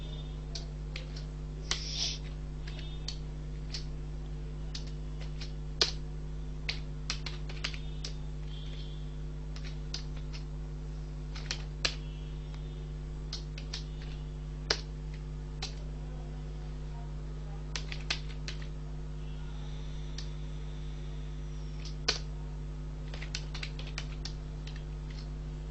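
Computer keyboard typing while Python code is written, a steady run of light clicks and occasional sharper key taps over a constant low electrical hum.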